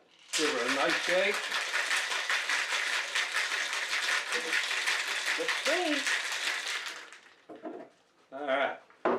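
A cocktail shaker rattles hard with a blueberry oatmeal whiskey milkshake, a dense steady shaking for several seconds, then stopping as voices talk briefly.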